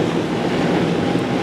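Cardboard recycling machinery with a large overhead magnet pulling out metal gives a loud, continuous industrial rumble and clatter, close and unbroken, with no voices.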